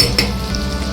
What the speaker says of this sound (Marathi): वाटण पण आपण तेलावर छान परतून घेऊया